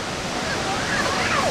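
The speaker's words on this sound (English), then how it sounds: "I'm not sure if the mic pick up all the waterfall sound." Kouang Si waterfall in Laos roars as a loud, steady broadband wash of falling water, close and continuous, with faint birdsong chirps rising above it.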